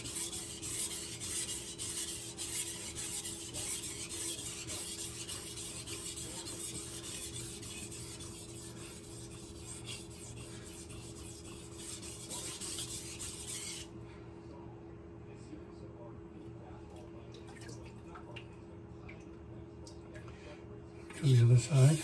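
A kitchen knife drawn across a wet whetstone with slurry, giving a steady close rasping rub that continues for a long stretch before quieting, with a brief louder knock at the end.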